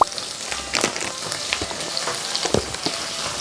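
Green onions stir-fry in hot oil before beef brisket goes in, with a crackling sizzle and sharp spattering pops at close range.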